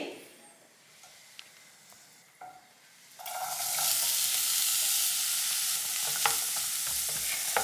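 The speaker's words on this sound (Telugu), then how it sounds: "మళ్ళీ సేమ్ ప్యాన్లో ఇంకొక టీ స్పూన్ నెయ్యి వేసుకుని ఆనియన్స్ అయితే ఫ్రై చేసుకుంటానండి" Onions frying in ghee in a pan: quiet stirring and light scraping at first, then a loud, steady broadband sizzle that swells after about three seconds and holds, with a few sharp crackles.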